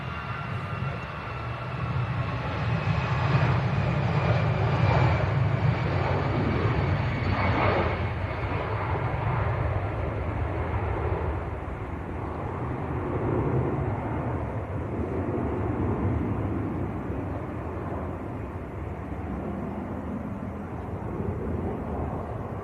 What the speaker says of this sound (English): Here we go, EasyJet to Belfast.